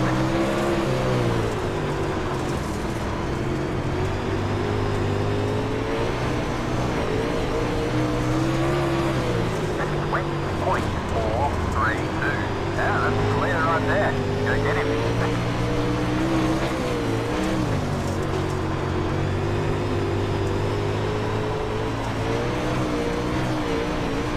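Late model race car engines from the iRacing video game roar steadily as a pack goes green, a continuous loud drone with shifting pitch throughout, with people talking over it.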